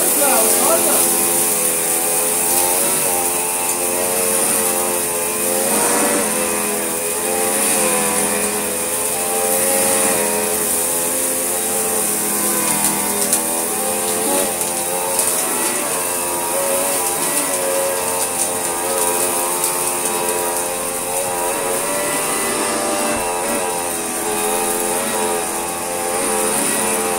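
A Hotpoint Light&Easy vacuum cleaner runs steadily with a constant whining motor drone and slight fluctuations as it is pushed back and forth, while a person talks over it.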